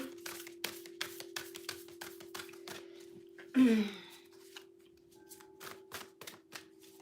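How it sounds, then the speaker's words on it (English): A deck of cards is shuffled by hand for a reading, with a run of crisp, close riffling taps and one louder burst of flicking cards midway, all over a faint steady hum. "These are getting easier to shuffle now."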